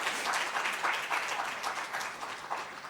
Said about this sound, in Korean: 박수로 환영 가겠습니다.